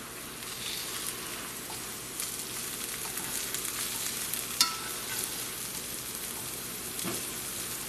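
Butter melting in a non-stick pan with cooked sausage, sage and parsley, giving a continuous fine crackling sizzle at moderate level, with a few faint clicks and one sharp tap midway.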